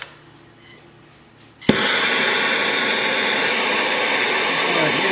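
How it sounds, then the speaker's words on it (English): A small propane torch is used on a Rheem water heater pipe to soften the solder. It lights with a sharp pop after a quiet stretch, then gives a loud, steady roaring hiss that continues to the end. "You just get yourself a little torch and propane."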